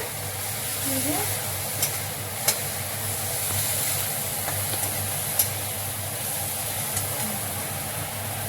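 Chhana bhujia, cottage cheese frying in a pan, gives a steady close sizzle and hiss with a low hum underneath, a few sharp utensil taps, and a voice speaking at times.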